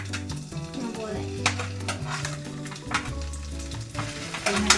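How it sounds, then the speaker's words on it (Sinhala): Sausages sizzle in a pan while Sri Lankan mixed rice is cooked, with steady frying and occasional stirring scrapes and utensil clinks, over background music. "දැන් සොසේජ් ටික අපි fry කරන්න ඕනේ"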